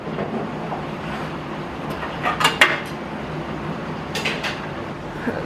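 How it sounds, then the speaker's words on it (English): Dishes set down into a kitchen sink to soak, giving a few brief clinks and clatters around the middle and near the end over a steady background hiss. "So I'll probably just put that in the sink to soak with some of those other dishes."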